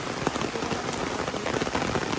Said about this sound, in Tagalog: Umuulan pala.